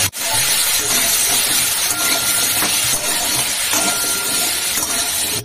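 Diced spiny gourd and potato with salt and turmeric sizzle steadily in hot oil, a loud continuous hiss of frying that fills the whole stretch with no talk.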